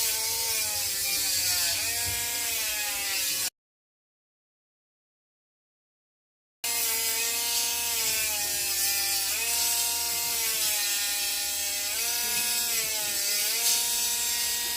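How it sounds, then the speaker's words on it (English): Dremel rotary tool grinding a dog's nails, a steady whirring buzz with shifting pitch, close and continuous, broken by a few seconds of dead silence midway. "I know the Dremel sounds loud."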